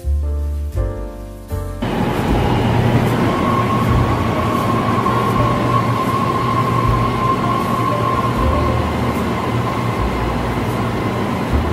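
An MRT metro train on the Putrajaya line in the Klang Valley runs with a steady, loud rumble of wheels on rail and a sustained whine inside the car, starting after a brief clatter.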